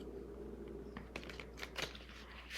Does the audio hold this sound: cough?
no